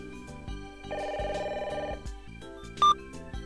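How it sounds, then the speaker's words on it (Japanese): A telephone in a dating-sim video game rings with a bright, repeating electronic trill, a sustained burst laid over ongoing game background music. "お、電話だ。"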